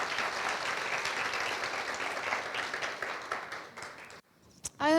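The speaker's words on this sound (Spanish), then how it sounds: "Un aplauso." An audience claps in sustained, dense applause that fades out near the end, followed by a brief voice.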